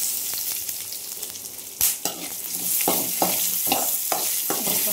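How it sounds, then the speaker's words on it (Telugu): Chillies sizzle in hot oil in a pan, a steady close crackle broken by several scraping strokes of a spoon stirring them, with no talking. "కొంచెం ఆయిల్లో ఫ్రై కావాలి"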